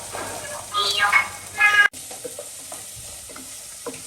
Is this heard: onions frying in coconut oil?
yes